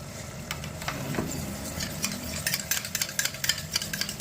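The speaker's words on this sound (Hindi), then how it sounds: "तो यहाँ मैं 2 चम्मच दही फेंट रही थी" Two spoonfuls of curd are beaten in a bowl. Soft, wet scraping and stirring go on over a low background hum, and quick, irregular taps grow more frequent toward the end. No one speaks.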